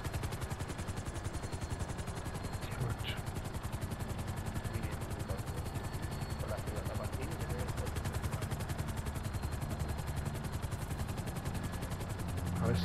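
Helicopter in Grand Theft Auto Online, a steady rapid rotor chop with engine drone running continuously throughout, fairly loud and close, with faint gunfire-like clatter and brief bursts mixed in.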